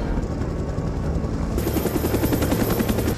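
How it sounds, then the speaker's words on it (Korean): A helicopter rumbles steadily, then its rotor chop grows louder and more distinct as it draws nearer, continuous and with no voices. "그때 갑자기 헬기 소리가 들려왔고"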